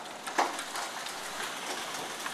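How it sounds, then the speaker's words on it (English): Heavy hail pelting down in a storm, a dense continuous patter of ice stones striking surfaces nearby, with one sharper close impact early on and no speech. "It's hailing like crazy."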